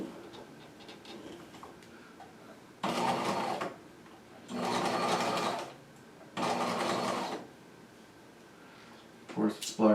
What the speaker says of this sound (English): I will do my best to stitch in the ditch.